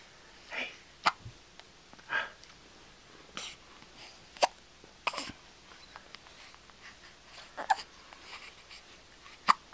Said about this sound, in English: Poor little guy, he's got the hiccups.